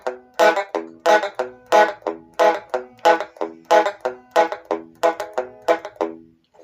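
Boom-chicka guitar strumming with upstrokes and a slightly relaxed chording hand, Sun Records style, producing a steady, muted, choppy rhythm of close, bright strums, alternating heavier and lighter hits without pause.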